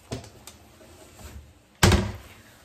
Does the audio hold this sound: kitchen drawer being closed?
yes